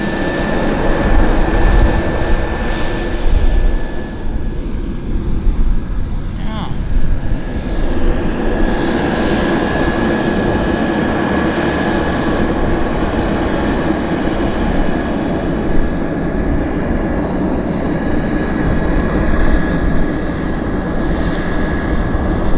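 Air Canada Flight 29 airliner at Vancouver Airport, bound for Beijing: a loud, steady engine roar with a high whine running through it, sustained and close for over twenty seconds.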